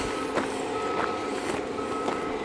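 A forestry work vehicle sounds its reversing alarm at a distance, a steady series of evenly spaced beeps, about one every half second, over a broad outdoor rumble.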